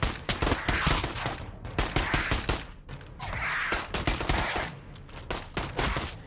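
Gunfire from the VR shooter Pavlov VR in zombies mode: dense, rapid bursts of shots crackle almost continuously, loud and close, with brief gaps between volleys and no voices.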